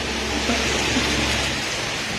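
Heavy rain pours without letup at night in Zaragoza, Nueva Ecija, during a storm, a loud, dense and steady hiss that fills the whole moment.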